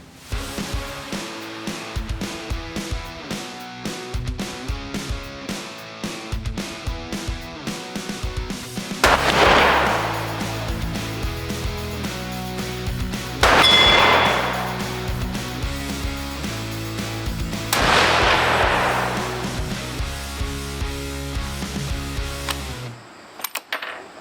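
Rifle fire at an outdoor shooting range before a youth hunt, with about three loud broadband shots standing out over a busy musical bed, each followed by a brief decay.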